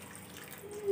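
Hot water goes into a mushroom korma masala mixture with a brief, soft splash and trickle that swells slightly toward the end, faint and close.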